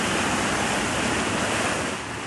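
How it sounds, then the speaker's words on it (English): Floodwater gushes down a hill into a village during a heavy rainstorm in Hong Kong, a dense, continuous roaring rush close to the microphone that holds steady throughout. "water gushed from the hill flooding parts of Kam Sheung Village."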